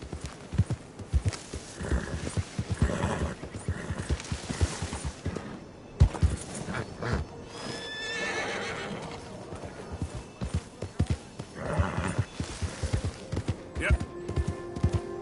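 Video-game horse hooves from Red Dead Redemption 2 clip-clop in a fast, rhythmic gallop, close and clear, broken by sharp neighs and whinnies. A voice speaks briefly over the running hoofbeats.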